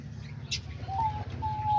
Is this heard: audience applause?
no